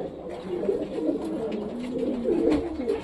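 Racing pigeons cooing close by, a male greeting a female with soft repeated throaty coos over a steady low background, no talk.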